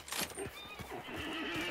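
A horse whinnies in the video game Hunt: Showdown, one short, quavering neigh close by and fairly quiet, with a few faint hoof knocks beneath it.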